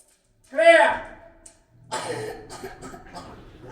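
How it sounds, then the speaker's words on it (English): A man in a canal tunnel gives a single harsh cough, followed after a pause by rougher, breathy coughing sounds, close by and otherwise quiet. "There he is, you can hear him coughing."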